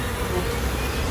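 A swarm of about 10,000 honey bees hums loud and close as a dense, steady drone without a break, during an attempt to move them from a swarm trap into a bee box.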